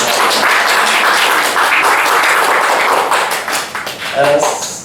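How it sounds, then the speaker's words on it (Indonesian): A room full of people claps for a woman named Desti at a talk-show-style event on animal protein and stunting, dense and loud at first, thinning out with scattered taps near the end. "Tepuk tangan untuk Mbak Desti"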